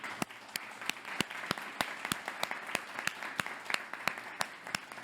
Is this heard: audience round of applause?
yes